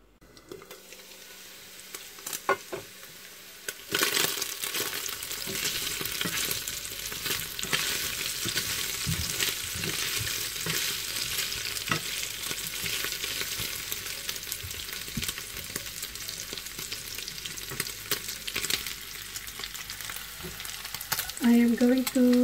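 Chopped turkey fries in a pan, giving a steady loud sizzle throughout with occasional stirring scrapes and clatter, and no talking.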